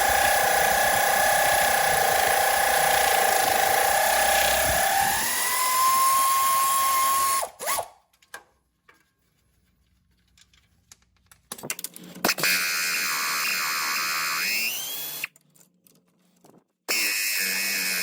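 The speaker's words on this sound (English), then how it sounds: "So for the rest of these, I'm going to use my air ratchet." An air ratchet whirs in loud high-pitched bursts, spinning bolts off the rear axle of a Jeep Wrangler JK, each run rising in pitch as the bolt frees, with quiet pauses and faint clinks between.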